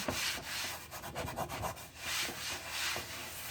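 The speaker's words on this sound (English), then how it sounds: "even when you have to scrub a little to get the burnt stuff off, it scrubs it" A netted dish cloth is scrubbed hard over burnt residue, giving a continuous rough rubbing sound with rhythmic back-and-forth strokes, close and fairly loud, with no voices.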